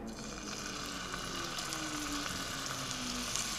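A kilo of beef seared in a large spoonful of oil in a pot, giving a steady, even close sizzle with no talking.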